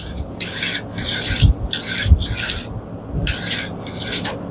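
A Honda small-engine recoil starter is worked back and forth, giving repeated raspy rubbing strokes in an even rhythm, about six pulls, close and fairly loud.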